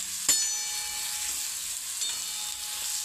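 Onion, green chilli and turmeric stir-fried in a pan make a steady close sizzle, with a sharp utensil knock near the start and a lighter clink about two seconds later, and no speech.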